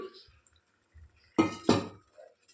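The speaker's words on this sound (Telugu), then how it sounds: "మళ్ళీ ఒకసారి బాగా మిక్స్ చేసుకోవాలి" A spoon clanks twice against a metal pan while stirring chicken roast, with quiet rustling before and a faint voice murmuring at the start.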